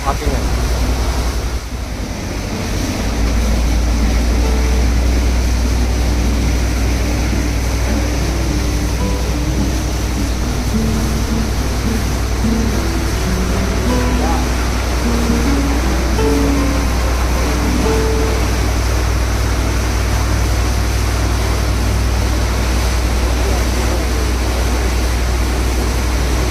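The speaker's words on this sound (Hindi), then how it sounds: "यहाँ से बोट ने टर्न ले लिया है और अब ये दूसरे डायरेक्शन में जा रही है।" A tour boat cruising on a Scottish Highland loch, with steady engine rumble, rushing water and wind buffeting the microphone throughout, and faint voices now and then in the background.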